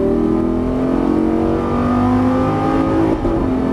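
A Lamborghini Gallardo at full throttle on a racetrack, its engine roaring loud and steady with layered harmonics that climb slightly as it pulls hard, heard close from inside the car without a break.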